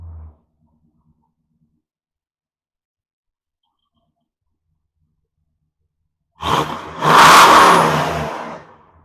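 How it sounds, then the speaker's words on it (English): A Ford Crown Victoria engine revs up hard after a long silence, roaring loudly for a few seconds and then slowly easing back down. "Let it settle down and then give it a couple revs,"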